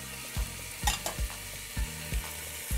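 Shallots, mushrooms and red peppers sizzle in a pan, with a spatula striking and scraping in a regular rhythm of about six clear knocks over the frying hiss.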